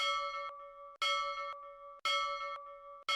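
A notification bell sound effect rings out as four loud, bright chimes spaced about a second apart, each ringing on briefly before the next, with no voices.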